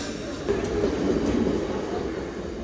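A train pulls away from a railway station platform. It makes a close, steady low rumble of rolling carriages that swells slightly and holds through the moment.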